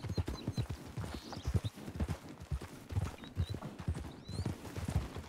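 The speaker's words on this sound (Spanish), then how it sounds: "Quería poner a prueba el caballo." Horse hooves clip-clop in the RedM video game, a Thoroughbred being ridden at a steady, even walking rhythm, close and fairly loud throughout with no talk over it.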